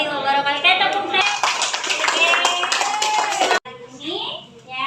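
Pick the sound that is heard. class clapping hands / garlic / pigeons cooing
class clapping hands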